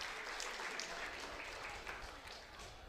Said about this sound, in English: Nice hand from the crowd.